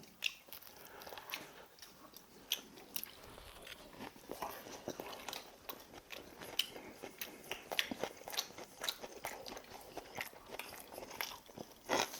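Family eating a lunch of pork cutlets, including a large cutlet and one with tteokbokki, at home; steady close chewing and crunchy bites run throughout with small scrapes and clinks, and no talk.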